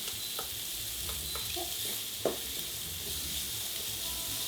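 Pre-cooked brown basmati rice warming in an oiled pan with a marinade of tamari, giving a steady close sizzle with a few faint scrapes and one sharper knock partway through, and no talk.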